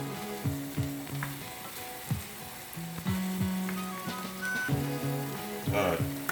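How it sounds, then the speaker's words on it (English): Mushrooms sizzling in a hot pan, a crackling fry broken by repeated scraping stirs and clacks of a utensil, with a faint voice in the background. "These mushrooms straight to the pan."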